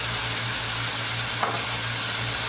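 Onion frying in hot oil for a keema samosa filling, a dense, continuous close sizzle with a low steady hum beneath and a faint stirring scrape near the middle.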